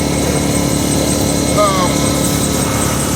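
A Ryobi portable generator engine runs steadily at a constant drone, loud and close, with no talking over it.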